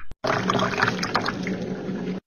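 Water poured into roti dough from a vessel, a steady splashing pour lasting about two seconds after a brief initial splash, close and fairly loud.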